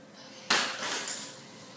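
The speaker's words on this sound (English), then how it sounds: "throwing this pen at this shot glass" A pen thrown at a shot glass strikes it with a single sharp clink, a bright near impact followed by a short ringing rattle in an otherwise quiet room.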